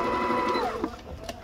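A Singer Fitlyn 6700 sewing machine running a simple straight stitch, a steady close mechanical whir that winds down after about half a second, followed by faint clicks.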